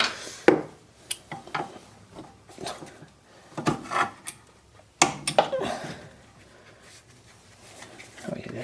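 Rubbing and scraping from a brake dragging on the rear wheel of a 2006 Audi A3, heard as repeated short scrapes and knocks at close range, with some talking in between.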